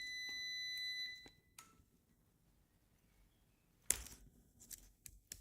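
A Kaiweets KM601 multimeter gives a continuity test beep: a steady high electronic tone for about a second, then faint clicks and handling noise.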